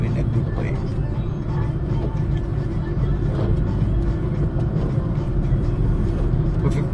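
A Maruti Suzuki Swift petrol car cruises in fifth gear at around 50 km/h, giving a steady, low in-cabin drone that runs continuously while someone talks over it.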